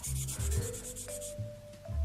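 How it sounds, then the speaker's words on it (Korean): An old, worn 600-grit sponge sandpaper rubs along a seam on a Megami Device or Frame Arms Girl plastic model kit, making steady, close back-and-forth scratching strokes in a quick, regular rhythm. "600방 스펀지 사포로 마무리를 하겠습니다"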